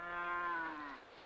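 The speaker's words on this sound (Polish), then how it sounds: "Odprowadź krowę do zagrody." A cow on a Western ranch lets out a single loud, close moo that slides downward in pitch and stops abruptly, leaving quiet behind it.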